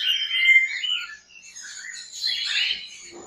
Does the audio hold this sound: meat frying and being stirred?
no